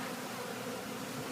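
Dense, constant buzzing of a honey bee swarm inside a bay window, a close and even drone with no pauses.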